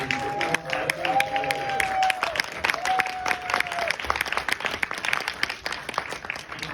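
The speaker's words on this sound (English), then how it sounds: "Let's have another round of applause for him" A room full of people clapping at a New York film screening Q&A with Robert De Niro and Debra Messing, dense steady applause that carries on for several seconds, with a few voices rising briefly over it.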